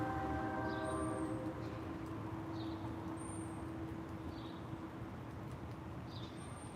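A train horn holds a steady, fairly loud tone over the rumble of rail traffic, while faint bird chirps repeat in the background outdoors in the early morning.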